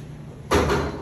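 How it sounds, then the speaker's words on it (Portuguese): A door in a mansion is pushed open about halfway through, a sudden broad rush of sound that stays steady and fairly loud after a quiet start. "Abre as portas."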